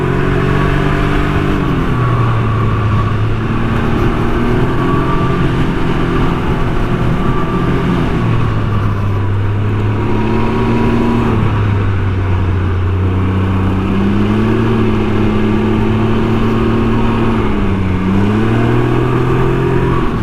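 2019 Can-Am Ryker three-wheeler engine accelerating on an open road, a loud steady drone that climbs through several gear shifts with brief dips between them, heard from the rider's seat amid heavy wind rush.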